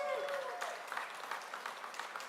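Audience applause for a conference commissioner at a tournament announcement, a burst of dense clapping that stays steady and then tapers, with a voice briefly over the start.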